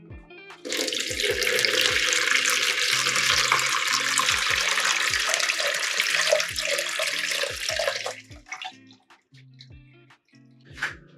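Blueberry tea is poured through a sieve into a jug, a steady close splashing trickle for about eight seconds, then scattered drips as the flow stops.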